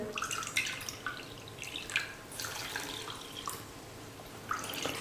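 Water poured into a cup of semolina for a dosa batter, a close, continuous trickling and splashing pour lasting several seconds.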